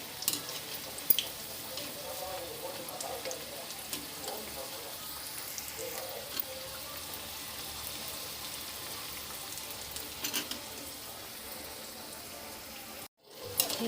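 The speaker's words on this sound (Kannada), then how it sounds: "ಈಗ ಫ್ರೈ ಆಗ್ತಾ ಉಂಟು." Bitter gourd pieces fry in a pan with a steady, soft sizzle and crackle that runs for nearly fourteen seconds, broken by a brief silence near the end.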